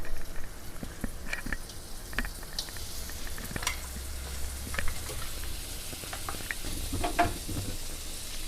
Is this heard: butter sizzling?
yes